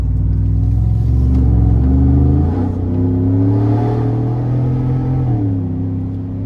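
A 700-horsepower 2020 Saleen F-150 SportTruck XR Yellow Label accelerating hard, its engine roaring loud and close in a steady rising pull, with a brief dip and shift midway before climbing again.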